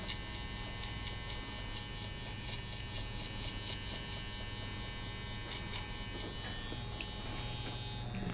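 Electric hair clippers run continuously close by with a steady buzzing hum while they blend a taper haircut. Small shifts in tone come as they move through the hair, and no one speaks.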